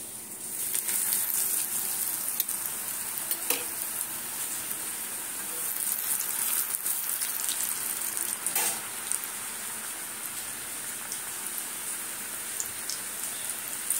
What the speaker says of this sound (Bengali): চল এবার আমি ভাজবো। তেলটা দেখো, আমার তেলটা গরম হয়ে গেছে কিন্তু।